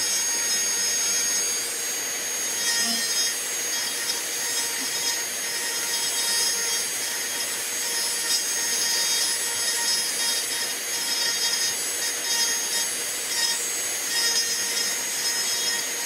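Dremel rotary tool power carving a wooden .22 rifle stock with a burr, giving a steady high-pitched whine with grinding against wood that holds at one level and stays close and loud throughout.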